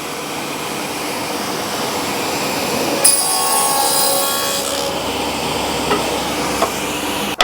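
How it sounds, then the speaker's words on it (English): A table saw cuts a single dado through a dressed timber board held against the fence while a dust extractor runs, steady broadband whirring swelling louder for a couple of seconds mid-cut, then settling back to the machine hum. "Put it up to the fence, saw on, dust extractor on,"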